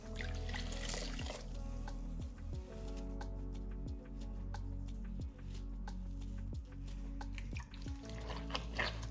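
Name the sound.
rinsing the face with water and a sponge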